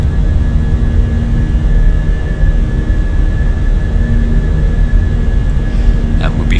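Simulated A320 with IAE V2500 jet engines on takeoff in Microsoft Flight Simulator, a steady loud engine roar with a constant whine running unbroken throughout, a few brief clicks near the end.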